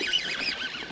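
Geese or ducks near a rock on a lake during a bass fishing trip honk and squawk in a close, continuous, wavering chorus of calls, with no voices over them.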